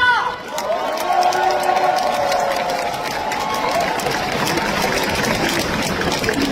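A crowd applauds steadily for several seconds at a Democratic Party of Korea national convention, dense clapping with some cheering and a tonal voice or music running underneath.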